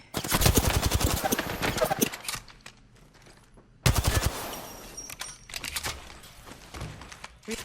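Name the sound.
gunfire in the video game Apex Legends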